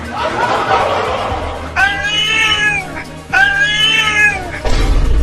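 A cartoon cat in a Hindi comedy cartoon lets out two loud, drawn-out meowing yowls in quick succession. Busy background noise sits under and between the calls.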